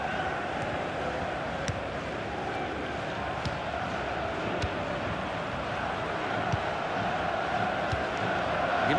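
A restless stadium crowd in FIFA 16, during a Europa League group stage match, keeps up a constant, fairly distant murmur with occasional thuds of the ball and faint shouts.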